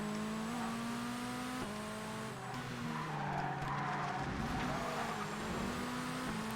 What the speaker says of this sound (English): Oh, there goes the engine.